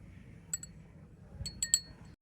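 A spoon drops rice flour into a bowl of cucumber juice, making a few faint, light clinks against the bowl, one early and a small cluster near the end, over a quiet room.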